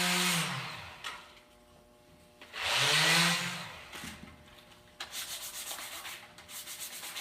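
Quick sanding of the bottom panel edges of a wooden keepsake box, in three close, loud bursts of abrasive rubbing separated by short pauses, the last one a rapid pulsing scrub.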